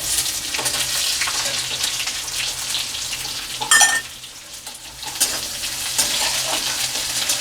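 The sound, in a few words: onion frying with curry leaves in a pan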